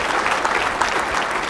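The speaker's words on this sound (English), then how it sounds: "why don't you clap every line?" Audience at a community leadership breakfast gives a short burst of steady, moderately loud applause, dense clapping throughout with no voices over it.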